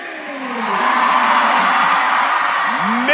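A basketball crowd at a 2017 Class AA high school consolation championship roars through starting lineup introductions, a loud sustained cheer with whoops and yells from the stands, and a rising public address voice near the end.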